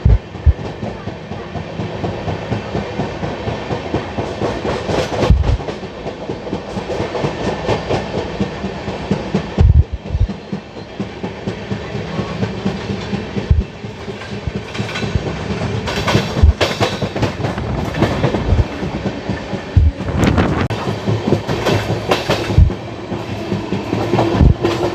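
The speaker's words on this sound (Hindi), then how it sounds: "हम लोग मथुरा जंक्शन स्किप कर रहे हैं और साथ ही साथ ओवरटेक कर रहे हैं मिलेनियम एक्सप्रेस को" The Tamil Nadu Sampark Kranti Express (12651) runs through Mathura Junction, heard from on board as a continuous loud rumble with rhythmic wheel clickety-clack and sharp thumps over rail joints, with no talking.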